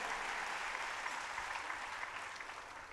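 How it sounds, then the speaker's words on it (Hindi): A dense, even wash of audience applause welcoming a guest at a Bhagwat Katha gathering, many hands clapping continuously and evenly, heard from a distance. "तालियां बजाकर उनका अभिनंदन करें"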